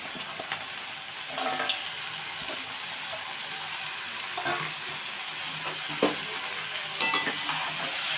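Mixed leafy greens frying in a pan, a soft ongoing sizzle broken by scattered clatters and scrapes as they are stirred.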